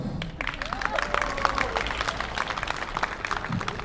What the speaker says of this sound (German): Gebt einen Applaus